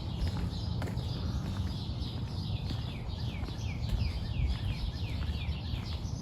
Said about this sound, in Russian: На бэк-ярде шумит кондиционер, а спереди птицы